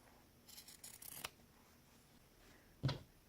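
Scissors cut through fabric for a doll decoration in a short run of quick snips, followed by a pause and one sharp close snip, with no talking.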